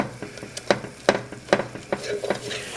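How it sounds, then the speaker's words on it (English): Celery and onions browning in butter in a pan, heard as repeated sharp scrapes and knocks of a utensil stirring over a soft sizzle, the strokes coming roughly every half second. "what I want to do is I want to brown up my celery and my onions"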